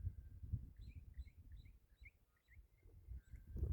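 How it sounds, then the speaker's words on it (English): Faint, high chirping bird song repeats in quick bursts, distant, over a low rumbling background in rural Tasmania. "listening to the birds"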